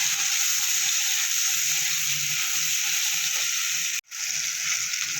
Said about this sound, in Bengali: দিয়ে আলুটা আমি একটু ভেজে নেব